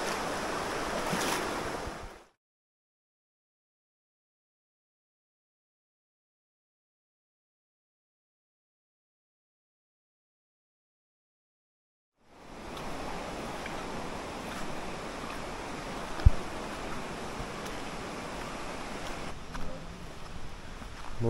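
A waterfall's rushing water makes a dense, steady roar close by, then cuts to total silence for about ten seconds before the same heavy rush returns.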